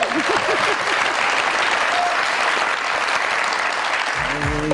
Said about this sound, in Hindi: बहुत सारी तालियां सऊद साहब के लिए